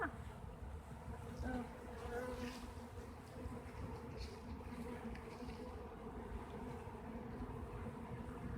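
A continuous, low-level hum of many honey bees buzzing together around a newly arrived hive, steady throughout with no voices.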